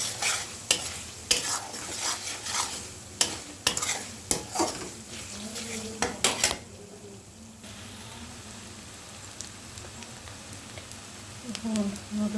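Small pieces of chicken breast are sautéed in a pan for children's noodles, with clattering stirring strokes and utensil knocks over a steady sizzle, then quieter frying with faint clinks and brief voices in the background.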